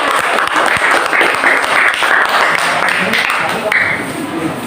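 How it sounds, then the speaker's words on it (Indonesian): A class in a classroom applauds a student group, loud close clapping from many hands in a steady dense patter, with a voice briefly audible over it. "beri tepuk tangan dulu"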